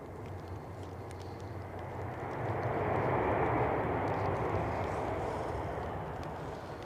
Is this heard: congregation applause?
no